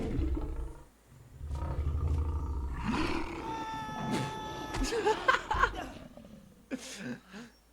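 A tiger roars in a French Tintin cartoon, with deep growling roars and snarls mixed with animated character voices and chuckles, plus a few sharp accents, over about eight seconds.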